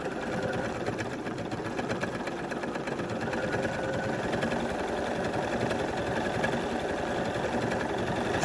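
A Bernina 480 sewing machine runs steadily through a decorative stitch, a fast continuous whirring needle rhythm at close range with no break.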